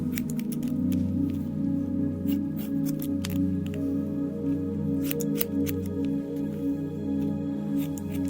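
A barber's scissors trim a customer's hair in a shop, giving soft, quick, irregular snips close by over a steady low humming music drone, with no one talking.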